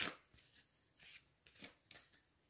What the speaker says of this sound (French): On va faire le tirage avec l'oracle des âmes jumelles.